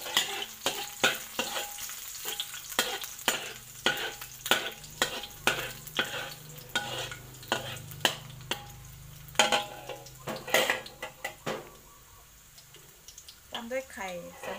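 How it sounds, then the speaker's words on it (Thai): Garlic frying in vegetable oil for canned fish fried rice: a steady sizzle with repeated clicks and scrapes of a spatula stirring in the pan, close and fairly quiet, with a voice briefly at the end. "ใส่น้ำมันลงไปนะคะน้ำมันพืชนะคะแล้วก็ตามด้วยกระเทียมค่ะ"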